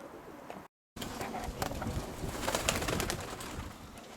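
Roller pigeons softly cooing in a loft on a quiet day, repeated low murmuring coos with a brief dropout early on, fairly close but not loud.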